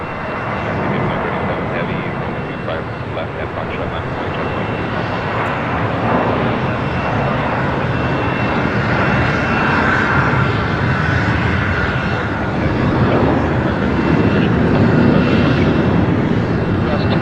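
A jet airliner roars at Los Angeles International Airport, a broad, loud rumble that builds gradually and holds steady, heard on its own without talk.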